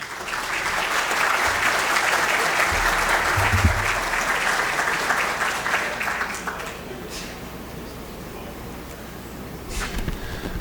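An audience at the official opening of a citrus industry expo in Brazil claps loudly and steadily for about seven seconds, then the applause thins out to a few scattered claps.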